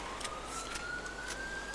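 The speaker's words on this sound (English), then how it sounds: "Oh, I hear sirens." A police siren in the video game GTA V wails faintly in the distance, a thin steady rising tone over low background rumble.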